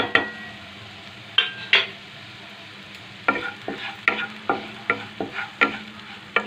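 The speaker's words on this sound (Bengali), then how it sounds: "দিয়ে এবার কষাবো ভালো করে" Spices sizzle in oil in a pan for a home-style fish curry while a spoon stirs them, with repeated scraping knocks against the pan in an uneven rhythm over a low sizzle.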